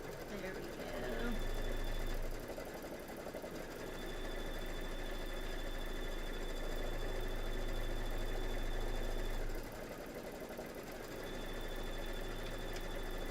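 A sewing machine stitches a quilting pattern in white thread, its steady mechanical hum broken by two short pauses before it starts up again, while someone talks over it.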